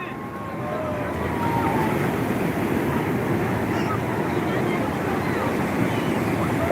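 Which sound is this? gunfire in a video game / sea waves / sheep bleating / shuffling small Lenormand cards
sea waves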